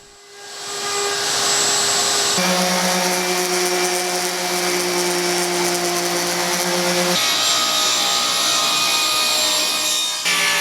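A router cuts an eighth-inch roundover along the edges of wooden table legs for a hope chest, with a dust collector running: a loud, steady whine and roar in several long passes, close and continuous, no voices.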